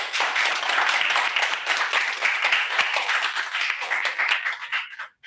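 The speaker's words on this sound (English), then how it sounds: "With big round of applause, welcome our Toastmaster of the day" A room full of people at a hybrid Toastmasters club meeting gives a big round of applause welcoming the Toastmaster of the day, dense continuous clapping that holds steady before cutting off abruptly.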